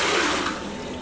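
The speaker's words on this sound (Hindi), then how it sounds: "हम देखेंगे कि 2-3 बूंद पानी का इस पेपर पर क्या असर पड़ता है" Water splashes onto a sheet of paper, a brief close wet pattering hiss that fades within about a second, with no voices.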